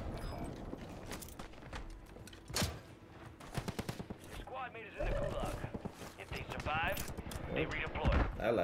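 Repeated gunfire crackles through a Call of Duty: Warzone match, with scattered bursts and single shots, some sharp and close, others farther off, under ongoing game sound and players talking over it.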